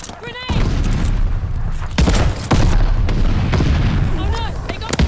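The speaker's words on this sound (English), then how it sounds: "I just got a 19-point V2 rocket" A V2 rocket strike in Call of Duty Vanguard lands as a string of heavy booms and blasts mixed with gunfire, loud and close throughout, with frantic game voices and chatter over the chaos.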